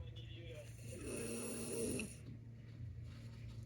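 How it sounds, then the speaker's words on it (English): Slow, heavy snoring rises on an inhaled breath and fades, with a faint tonal background hum running throughout. "He's snoring, trying to find a good way for his airway to be when he's sleeping."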